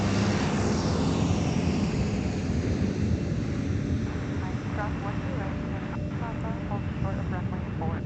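Delta jet starting its takeoff roll on runway 4 for a flight to St. Louis at Minneapolis–St. Paul airport, a broad, steady roar with wind buffeting the microphone, while a person talks throughout.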